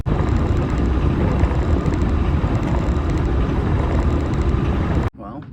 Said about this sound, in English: All right, we got the engine going.